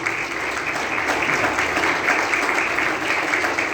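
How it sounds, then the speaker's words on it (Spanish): A church congregation applauds during a Spanish-language service with steady, dense clapping from many people throughout, close and fairly loud. "Dale un fuerte aplauso a Jesús."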